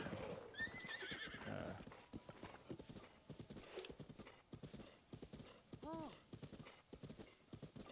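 Horse in a Zelda video game whinnies in rising, pitched calls early on, then clip-clopping hooves trot rhythmically throughout, with another short neigh near the end over game sound.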